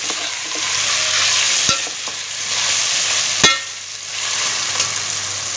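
Carrots cook in a pan over low heat, giving a soft steady sizzle with a few sharp clicks of a utensil against the pan, close and without talking.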